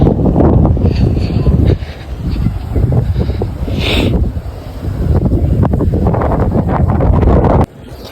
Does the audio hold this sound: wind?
yes